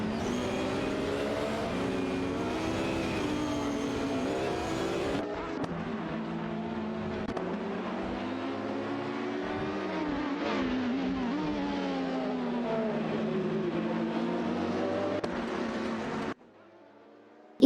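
Oreca 7 prototype race cars battle for position in a racing video game, engines whining and shifting pitch as they accelerate and pass, with a sustained roar that cuts off near the end.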